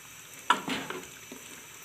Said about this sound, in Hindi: अब हम टमाटर को थोड़ी देर गलने देंगे।